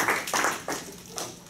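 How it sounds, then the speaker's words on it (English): A few sparse hand claps from a conference audience as a presentation ends, four short, sharp bursts spread across a brief moment. "Also, clapping for Ryan, too."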